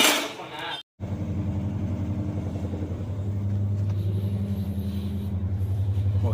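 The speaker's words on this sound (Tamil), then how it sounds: "ஒரு பக்கம் வாஷிங் மிஷின் தான் சவுண்டு கேட்குது." A washing machine runs in the background, a steady low rumbling hum with a rhythmic pulsing motor drone that continues throughout, briefly interrupted near the start.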